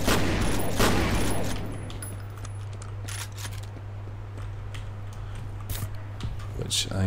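Gunfire in the shooter game F.E.A.R. at a water treatment plant: sharp, loud shots and short bursts crack sporadically over a low steady hum, with someone talking and sighing between them.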